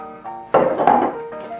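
A Manhattan cocktail stirred in a glass: a couple of close, bright clinking and scraping bursts of spoon against glass, with a quieter hum before and after.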